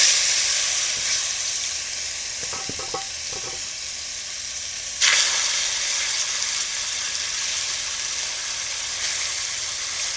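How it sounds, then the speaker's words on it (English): Pork sizzles and fries steadily in hot vegetable oil in a pot, a loud continuous hiss with brief stirring clatters midway and a sharper burst of sizzle partway through; nobody speaks. "The pot is on the fire with a little bit of vegetable oil, and it is hot, so we're going to brown it."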